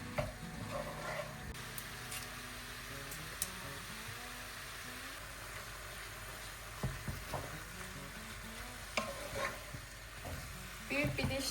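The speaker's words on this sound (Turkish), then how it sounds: "sarımsak attık içine. Kavrulmasını bekleyeceğiz." Garlic frying in a pan as the first step of a lasagna sauce, a faint, steady sizzle with occasional clinks and scraping of a spatula, and a quiet voice now and then.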